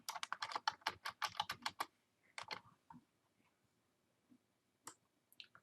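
Password keys typed on a computer keyboard: a quick run of about a dozen crisp, close clicks, a pause, a short second burst, then a few scattered taps, with no talk over them.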